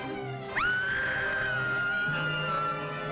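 A girl screams in an old jungle adventure film serial, a shrill cry that swoops upward and then holds a long, steady high pitch over a continuous background.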